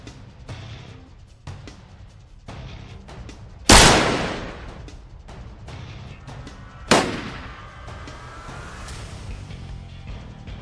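Rifle shots during a wild hog hunt on Texas farmland, two sharp loud cracks several seconds apart, each with a trailing echo, over a low outdoor background.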